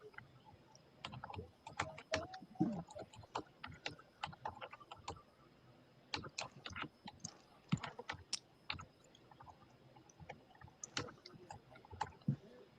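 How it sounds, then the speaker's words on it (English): Quiet, irregular clicking of keys on a computer keyboard, coming in short bursts with brief pauses, close to the microphone. "You hear me typing."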